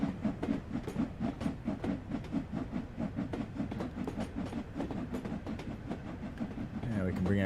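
A steam locomotive in Train Sim World 2 rolls along the rails with a rapid, even chuffing and clatter that runs all through. The sound is moderately quiet, and a hiss rises near the end.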